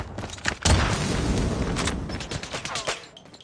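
Kilo bolt action rifle gunfire in a first-person shooter video game: a sharp loud shot followed by a booming rumble of echoing battle noise that slowly fades, with faint game voice callouts underneath.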